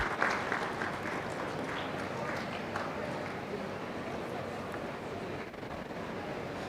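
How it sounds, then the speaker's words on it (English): An audience at a conference session claps in a sustained round of applause, strongest at the start, then settling into a steady, moderately distant patter of many hands. "big round of applause for Richard Rekhy, sir."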